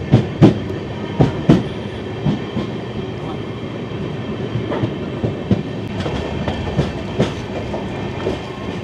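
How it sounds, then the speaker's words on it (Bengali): Bandhan Express train running at night after leaving Katwa Junction, heard from inside with a loud, steady rumble and rhythmic clickety-clack wheel beats throughout. "রাত দশটা বেজে পঞ্চাশ মিনিট আমাদের ট্রেন ছেড়ে দিল কাটোয়া জংশন"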